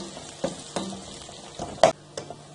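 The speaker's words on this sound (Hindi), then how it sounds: "इसको डार्क गोल्डन हम करने तक इस तरह फ्राई कर लेते हैं।" Sliced onions fry in hot oil in a pan for chicken korma, a soft steady sizzle broken by several sharp clinks and scrapes of a utensil stirring, close and fairly quiet, with no talking.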